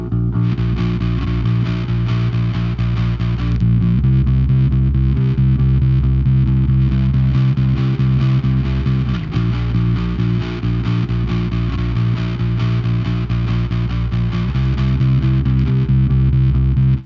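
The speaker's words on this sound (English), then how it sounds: "you can get really cool fuzzy bass tones" Bass guitar played through a Safari Pedals Cobra Fuzz pedal on setting 4, a thick, loud, heavily distorted fuzz tone with steady repeated notes and a few chord changes, continuous and alone with no talk.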